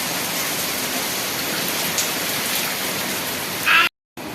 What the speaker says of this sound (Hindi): नहीं कम नहीं हुई बेटा, बहुत तेज हो रही है बारिश।